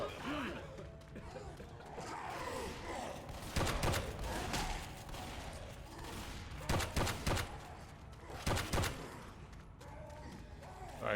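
Bursts of gunfire in Left 4 Dead 2 during a fight against a tank in the Diescraper Redux custom map, several sharp volleys cracking out over a busy game-action background.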